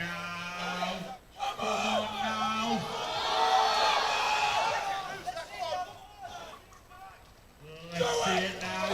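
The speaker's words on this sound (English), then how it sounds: "Got everyone cheering for him here." Crowd at a BUCS university powerlifting competition in London whooping and cheering for a 93kg lifter, a dense roar of voices that swells through the middle and stays loud, with some shouting mixed in.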